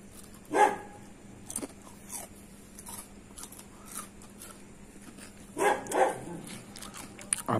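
A dog barks a few times in the distance, with two clearer bursts separated by a long gap, over a steady low hum and faint background noise.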